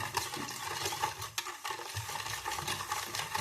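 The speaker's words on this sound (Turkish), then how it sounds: "İyice karıştırıyorum." Fruit juice mixture for homemade wine stirred steadily in a container, a continuous close swishing and scraping texture with a brief pause midway, no talking.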